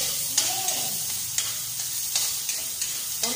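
Onion frying in a little oil, a steady close sizzle with soft periodic stirring scrapes every half second or so, no talk.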